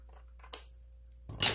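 Large scissors trimming craft material for a small Easter basket, two quick close snips a moment apart, in a quiet room.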